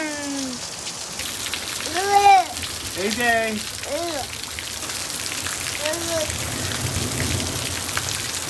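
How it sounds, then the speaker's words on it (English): Steady rain patters on a surface at a house in Arizona while a child and an adult speak briefly over it. "Raining here at the house."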